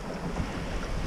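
Strong wind roaring past a sailboat running downwind in about 25 knots on a crossing from the Isle of Man to Ireland, a steady broadband rush with wind buffeting the microphone and water noise beneath.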